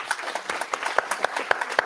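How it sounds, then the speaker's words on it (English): Audience applause at a conference session for the Angular CLI team, a brief patter of hand claps with distinct individual claps standing out, moderate loudness and no talk over it. "So let's give the CLI team another big round of applause."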